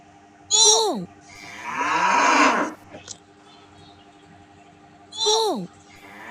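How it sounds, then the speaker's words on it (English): A bull from an animal sound book gives one long, loud, low moo in the middle, with shorter honking calls before and after it and quiet pauses between them. "Bull."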